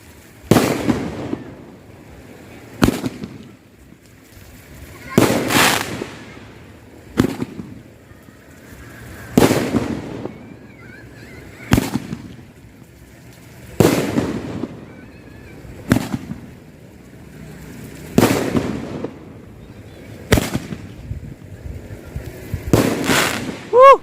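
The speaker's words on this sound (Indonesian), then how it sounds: "Mercon Roman Candle Mega Jumbo-nya sangat luar biasa sekali." Jumbo Roman candle fireworks fire in a series of sharp, booming bursts every couple of seconds, each followed by a crackling fade, fairly loud and spaced irregularly.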